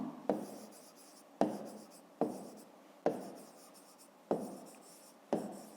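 Pen strokes scratch across paper during a fifth-grade math exercise, falling into six distinct bursts, each a sharp onset that trails off, close to the microphone with no talking.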